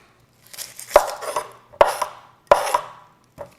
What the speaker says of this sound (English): And for the onions, we're going to chop these really easy.